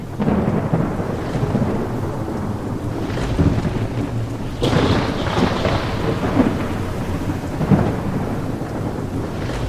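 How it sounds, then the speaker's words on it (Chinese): Heavy rain pours steadily while thunder rumbles and cracks, with a sharp clap midway and gusty wind buffeting throughout. "今天恰逢雷雨风暴席卷而来。"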